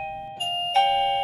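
An XTU J7 battery video doorbell's indoor chime rings a clear two-note ding-dong, two bright electronic tones struck about a third of a second apart, the second one left ringing at the end.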